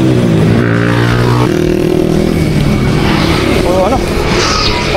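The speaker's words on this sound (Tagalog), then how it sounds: "Puro motor yung kasabayan natin." Motorcycles ride alongside on a rainy road during a long Infanta loop ride, their engines droning loud and continuous with rising and falling revs over constant wind and road noise.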